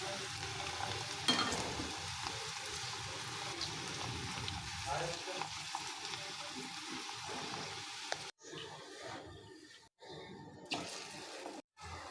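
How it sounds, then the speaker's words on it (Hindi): Papad fries in hot oil in a home kitchen, giving a steady close sizzle and crackle that runs throughout, with brief clatters and dips near the end and no talk. "तो ये तल दूँगी अभी मैं। तेल गर्म हो जाए फिर उसके बाद ये डाल देती हूँ पापड़।"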